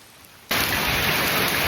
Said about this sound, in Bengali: আজকে এত পরিমাণ বৃষ্টি হয়েছে